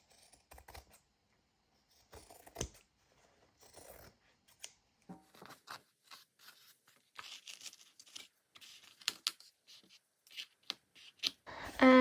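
Scissors snip and trim an art journal cover in short, irregular bursts of crisp cuts separated by quiet gaps, close and fairly loud, with a sharper rustle at the very end.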